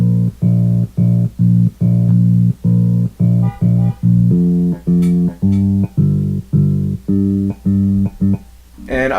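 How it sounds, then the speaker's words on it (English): Trombone in a pop song arrangement, playing a steady run of short, punchy sustained notes in a regular rhythm, loud and close, with a brief swelling effect at the very end. "later with that is the trombone, which sounds like this"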